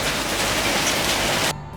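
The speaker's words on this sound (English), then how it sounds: "I ran outside to see hail bouncing from the ground" Marble-size hailstones pelt the ground during a storm, a dense, loud, hissing roar of countless impacts that stops suddenly and leaves only a faint background hum.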